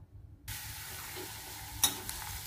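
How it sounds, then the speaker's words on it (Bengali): Onion and garlic paste hits hot oil in a wok and sizzles steadily, with a brief stirring clatter partway through, close and fairly quiet with no talking. "কড়াইতে তেল দিয়ে পেঁয়াজ ও রসুন বাটা দিয়ে হালকা করে ভেজে নেব"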